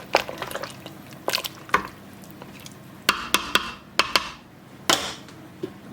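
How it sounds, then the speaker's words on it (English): A spoon stirs pea and ham soup in a pot, giving wet squelches and a string of sharp clicks and knocks against the pot, close and irregular. "Give it a stir."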